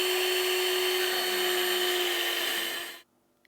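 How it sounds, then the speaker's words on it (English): A small high-speed mill drills holes in a model turret bin, giving a loud, steady whine with a faint chatter of cutting. It runs for about three seconds, then cuts off abruptly into near silence. "I've drilled out all my holes on the top of the bin"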